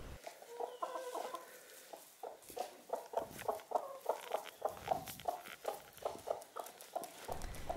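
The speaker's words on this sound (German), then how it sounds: "Glucken geben ein bestimmtes Geräusch von sich." A broody hen clucking continuously in low, repetitive rhythmic pulses, close by, steady throughout with a faint background hum.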